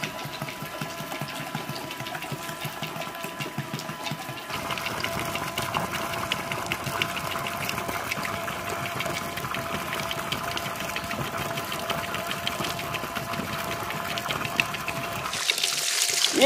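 A small homemade PVC-pipe water pump whirs steadily while water splashes and pours continuously, the mechanical hum and flowing liquid close and unbroken.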